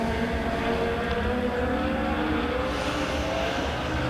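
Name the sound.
Legend race cars racing at Springfield Raceway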